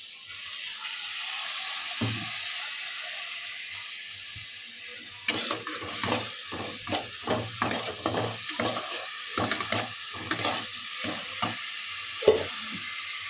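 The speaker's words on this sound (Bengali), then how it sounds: "এদিকে সব মশলাগুলো দিয়ে দিয়েছে, আমি একটু কষবো" Spices being stirred and fried in oil in a pan for a Bengali tilapia fish curry, a steady sizzle with repeated scraping stir strokes in a loose rhythm after a quieter start.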